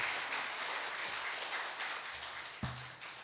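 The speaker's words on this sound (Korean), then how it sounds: "우리 장로님들 향해서 다시 한번 힘차게 또 격려의 박수 한번 보내주시기 바랍니다" Korean church congregation at a Sunday afternoon worship service giving an encouraging round of applause to the church elders, a diffuse, moderately faint wash of many hands clapping in a large room, ending with a single sharp thump.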